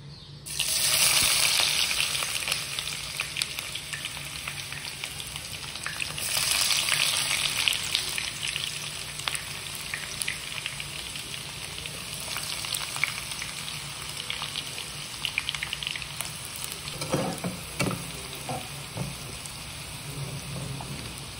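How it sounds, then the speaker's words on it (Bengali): Thinly sliced onions frying in smoking-hot oil for beresta, a steady loud sizzle and crackle running throughout, with brief bursts of heavier spattering. "দেখো ওখানে পেঁয়াজের বেরেস্তা ভাজা বসিয়ে দিলাম"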